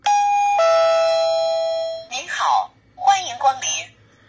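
An infrared motion-sensor entry doorbell plays a loud electronic two-tone chime lasting about two seconds, then a recorded electronic voice announces a welcome greeting.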